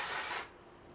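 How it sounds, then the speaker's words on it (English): Hair spray hisses in one short, close burst onto the bangs, then cuts off, leaving quiet room tone. "I will also spray my bangs"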